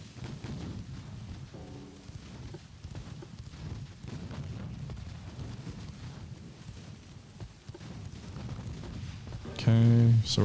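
Battleship guns firing during a naval battle in Ultimate Admiral: Dreadnoughts, a steady stream of distant booms and shell impacts under ongoing talk, with a louder burst near the end.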